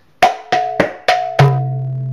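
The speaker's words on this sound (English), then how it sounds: "The next Tihai variation that I want to teach you is Tere Kheta Ja." Five crisp mridanga drum strokes play the Tere Kheta Ja pattern in a quick, even run, close and loud, with the last deep stroke left ringing.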